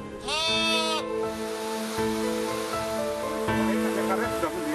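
Goats kept by a laid-off worker in Indonesia bleat loudly and close, one long wavering call at the start followed by further overlapping bleats against steady outdoor background noise.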